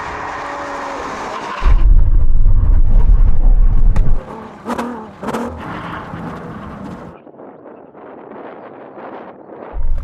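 Ferrari Purosangue and Lamborghini Urus SUVs brake hard to an emergency stop at a line, a loud roar and rush of tyre and wind noise that cuts off abruptly, followed by fainter rumbling and quieter settling, with no talking.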